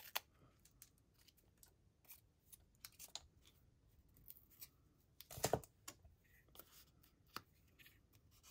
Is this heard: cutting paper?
yes